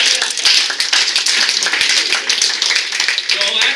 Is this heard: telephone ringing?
no